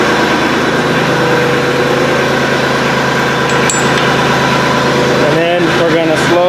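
An LS XJ2025 compact tractor engine idles with a steady, loud diesel rumble close by, and someone talks over it near the end.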